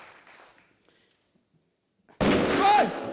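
After a quiet stretch, a sudden loud gunshot-like blast bursts in and rings out with a reverberating tail.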